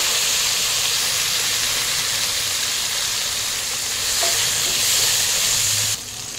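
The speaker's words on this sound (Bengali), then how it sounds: "নাড়াচাড়া করে ঢাকা দিয়ে স্লো আঁচে ভেজে নেব।" Vegetables for Bengali shukto fry in a covered pan over a low flame, giving a steady, dense sizzle and hiss with occasional stirring scrapes throughout, slightly duller near the end.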